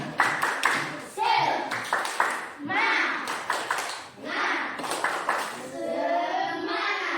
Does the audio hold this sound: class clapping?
yes